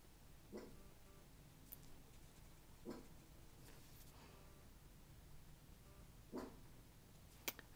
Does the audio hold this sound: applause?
no